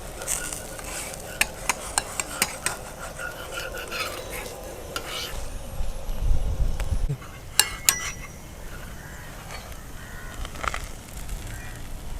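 Ghee and oil in a hot pan on a village cooking setup, a soft steady sizzle with sharp utensil clinks and scrapes as the contents are stirred, near and moderately quiet.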